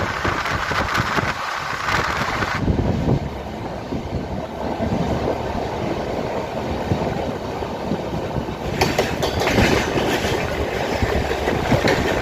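The Avantika Express, a passenger train between Indore and Mumbai, runs on rails with a loud, continuous rumble and rhythmic clickety-clack of wheels over track joints, heard close from inside a coach.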